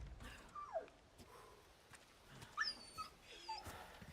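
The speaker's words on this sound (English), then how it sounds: "We gotta save the pup, guys." Dog whimpering in the Resident Evil 4 video game, a few high, thin whines and yelps scattered over a quiet, low ambient game background, with no one talking.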